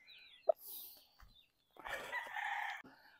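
Farm hens and a rooster: a brief sharp cluck, then a long, loud rooster crow in the second half of the clip, close by, with no voices.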